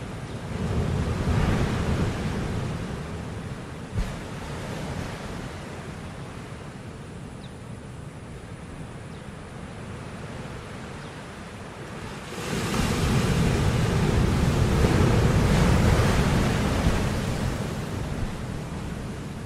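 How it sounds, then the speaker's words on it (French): Rising tide surging up a river mouth on a hot day, a continuous rush of waves and surf that swells louder in the second half, with some wind noise and no voices. "La marée montante part à l'assaut de la rivière."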